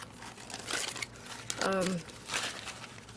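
Crumpled paper pages of an art journal crinkling and rustling as they are turned, several bursts of crackle close by, with a voice speaking briefly in the middle.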